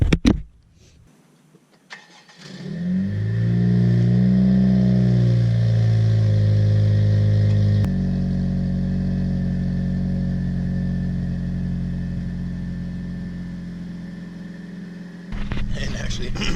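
A 2017 Honda Civic EX-T with a catless downpipe, RV6 exhaust and muffler delete cold-starts: a brief crank, then a loud flaring rev that settles into a steady, droning high idle, with a fluttering rattle from heat-wrapped exhaust and a voice near the end.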